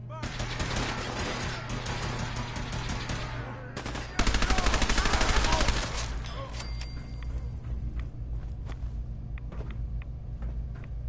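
Gunfire in the Fallout 4 video game, heavy continuous automatic fire, loudest in a dense middle stretch, then thinning to sporadic shots over a steady low game rumble.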